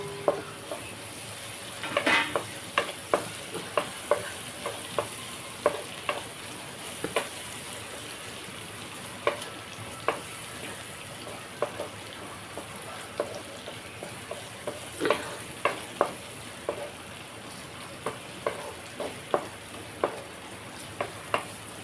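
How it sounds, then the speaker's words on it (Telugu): Ginger brinjal curry frying in a pan with a continuous sizzle. A spatula scrapes and clicks against the pan throughout, close up, with no speech. "ఇది ఇలా ఫ్రై చేసుకుని కొంతసేపు"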